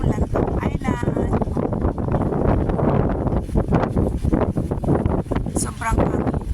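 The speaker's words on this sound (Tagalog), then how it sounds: "Ang lakas ng hangin." Strong night wind at Tung Chung on Lantau Island buffets the microphone in continuous gusty roars and rustles leaves, while a person talks over it throughout.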